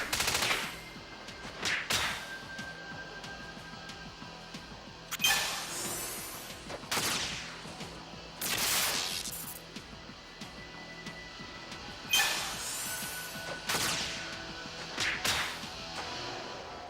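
Repeated sharp whip-like strikes and bursts crack out at intervals over about seventeen seconds during a Gatling jab attack in Unlimited Saga, each hit loud and snappy with short decays.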